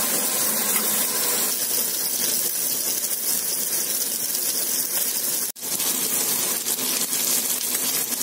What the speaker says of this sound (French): on vient leur donner une belle coloration à nos belles tranches d'ossobuco